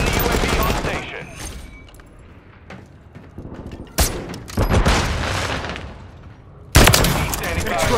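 Gunfire in the Call of Duty video game: bursts of rapid automatic shots and heavy booming impacts, loud and near, with a quieter lull midway before sharp blasts return.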